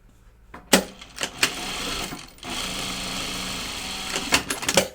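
A sewing machine stitches a quarter-inch seam on fabric for a project bag, running in short buzzing bursts and then a steady whirring stretch, close and fairly loud, with no talk.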